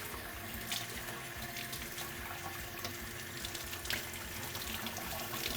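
Tap water runs steadily into a kitchen sink while chickpeas are rinsed for hummus, a continuous close splashing rush with a few brighter spatters.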